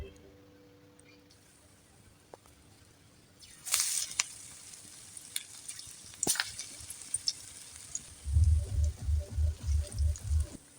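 Bean seed fritters frying in hot oil in a wok: a quiet start gives way to a soft hiss that brightens into crackling sizzle with sharp pops, then a run of regular low thumps near the end.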